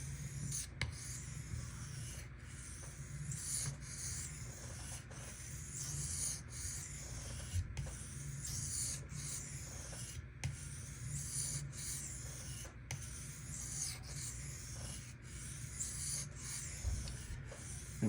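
A Benchmade 940 knife edge drawn across a high-grit sharpening stone, giving a steady, soft scraping rub that repeats in even strokes for the whole stretch, close and quiet with no talk.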